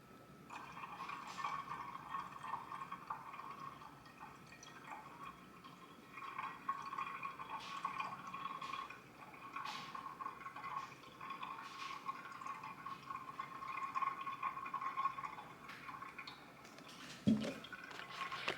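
Water trickles and fills into the boiler of a Wilesco D455 toy steam engine, a faint, close, steady liquid pour with small drips and gurgles running for about eighteen seconds, ending with a brief louder clunk near the end.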